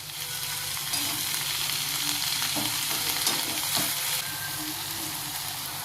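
Moringa leaves sizzle in a pan with onion, a steady close frying crackle with small stirring clinks and a brief louder hiss toward the middle, with no talk.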